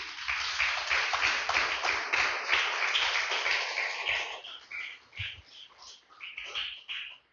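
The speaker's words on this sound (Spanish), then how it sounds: "Den un fuerte aplauso al Señor" A church congregation claps loudly in unison, a dense burst of applause that thins into scattered claps and fades out toward the end.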